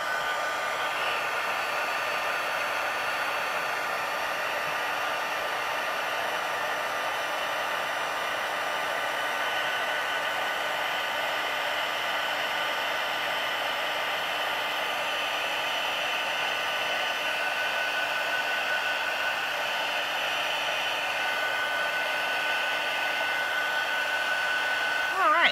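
A handheld heat tool blows hot air to melt colored media on a mixed media art piece, a loud, steady whooshing roar held close and unbroken for the whole stretch.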